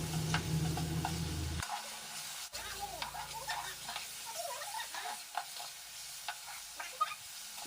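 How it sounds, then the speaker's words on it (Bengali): A spatula scrapes and stirs fish curry spice paste with garam masala frying in a pan, giving a string of irregular clicks and scrapes over a quiet sizzle, with one sharp knock partway through. "এবার খুন্তি দিয়ে ভালোভাবে মশলাটাকে দিয়ে কষাতে হবে"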